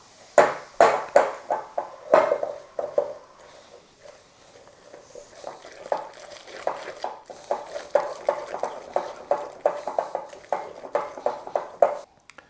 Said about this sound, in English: And then we'll just mix that up into a slurry